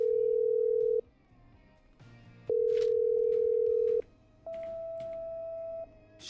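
Telephone line connecting as a call is patched through in the video game Killer Frequency: three long steady electronic tones separated by short gaps, clear and close.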